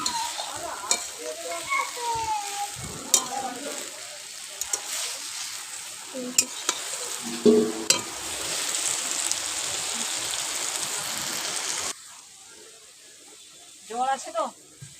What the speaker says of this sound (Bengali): এবার এর মধ্যে আমি ভেজে রাখা পটলগুলো দিয়ে দিলাম খুন্তি দিয়ে ভালো করে নেড়ে নেড়ে আমি মিশিয়ে নিচ্ছি